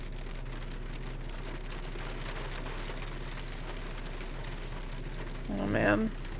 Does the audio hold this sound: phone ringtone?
no